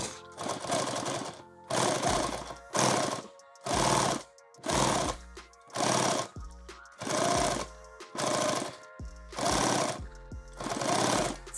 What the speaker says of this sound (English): Let's go and sew these on first